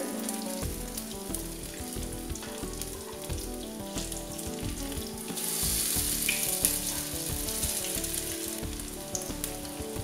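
Bread slices coated with chicken topping fry in a pan on low heat as a Bengali snack, with a continuous close sizzle that swells louder partway through.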